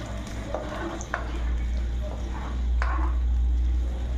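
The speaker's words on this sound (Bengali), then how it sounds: "দেখো হালকা হাতে এভাবে চালিয়ে নিতে হবে" Butter being stirred gently in a pan on a home kitchen stove as ghee separates from the water, giving soft scraping strokes with a low steady simmer underneath.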